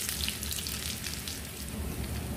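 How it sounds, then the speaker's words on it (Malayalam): Mustard seeds spluttering and crackling in hot coconut oil in a pan, a steady dense sizzle with fine pops, heard close with no voices. "വെളിച്ചെണ്ണ ഒഴിക്കുക, കുറച്ച് കടുക് ഇടുക."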